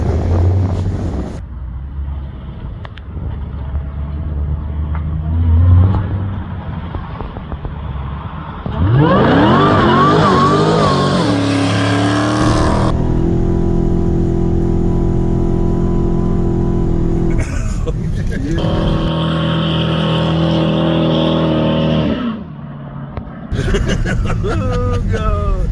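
An 840 hp Dodge Charger Hellcat Redeye performs a burnout, engine rising to a loud sustained roar with screeching tires for several seconds, then dropping off and revving again while bystanders chatter nearby.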